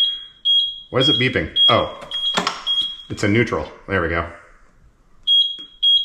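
A high electronic beep from a battery controller with lights sounds repeatedly in short pulses, starting and stopping around someone talking in the foreground.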